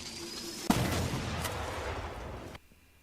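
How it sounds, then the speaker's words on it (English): A railgun in a Minecraft mod fires with one sharp blast, and a small explosion follows as a dense, rumbling roar that holds for about two seconds and then cuts off abruptly into near silence. "And it makes a small explosion."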